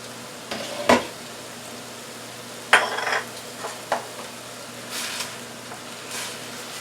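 Broccoli tossed into a hot wok for Chinese-style shrimp lo mein, a low sizzle under sharp clanks and scrapes of the utensil against the pan, several distinct stirring knocks spaced a second or so apart.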